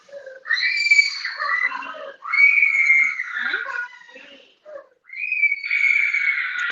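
A baby screams indoors in three long, shrill, wavering wails with short gaps between them, loud and close, with no other sound around them.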